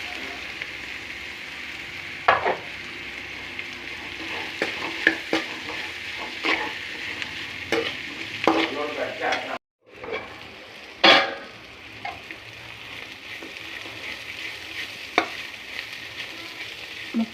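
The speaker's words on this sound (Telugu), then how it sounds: "ఇప్పుడు కాకరకాయ ముక్కలు వేసేసుకోవడమే." Bitter gourd pieces frying with onions in a pan, sizzling steadily while a spatula scrapes and stirs with repeated close clinks, briefly dropping out once before resuming.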